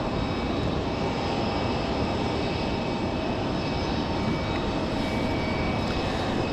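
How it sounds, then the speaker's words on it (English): A United Boeing 737 MAX 8 jet departs Raleigh-Durham for San Francisco, its engines a loud, steady broadband roar that holds without letup throughout, with no voices. "United 1769 off to SFO, that 737 MAX 8."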